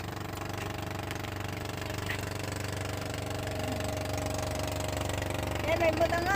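A motor engine runs steadily at a beach, a low, even droning hum with a faint rhythmic knock, while people talk nearby over it.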